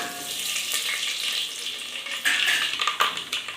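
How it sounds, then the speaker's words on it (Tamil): Mustard and fennel seeds crackle and sizzle in hot oil for tempering a curry, a close, continuous frying hiss with sharper pops toward the end and no talking. "நம்ம வந்து கடுகும் சோம்பும் போட்டுக்கலாங்க"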